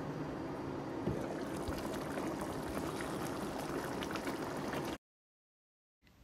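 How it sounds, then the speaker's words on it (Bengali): Covered chicken masala simmers in a pot over high heat with a steady, soft bubbling hiss for about five seconds, then it cuts to silence. "এবার চুলার জালটাকে হাই করে আমি চিকেনটাকে ঢেকে দিব 6 থেকে 7 মিনিটের জন্য।"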